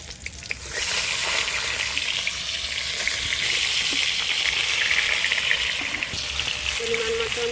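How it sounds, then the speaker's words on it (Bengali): Pointed gourd (potol) frying in oil in a pan for a vegetarian Bengali potoler dorma, a steady close, loud sizzle and crackle running throughout with faint stirring clinks near the end. "আমি এবার পটলটা ভাজা করে নিচ্ছি।"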